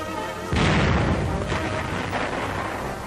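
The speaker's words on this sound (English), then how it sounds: "The gun commander demonstrates manual firing." A 1943 M10 tank destroyer's 3-inch gun firing manually, a sudden heavy boom followed by a long rumbling roar that slowly decays, loud and close.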